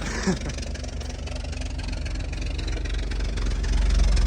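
A vehicle engine idles steadily after a cold start, with a muffler and an exhaust leak at the header. The low rumble is close and constant and grows slightly louder toward the end.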